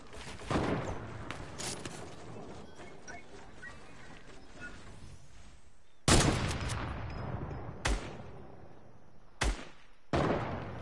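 Video game gunfire crackles in dense bursts, loud sharp volleys broken by short gaps and sudden single shots, with busy mechanical noise underneath.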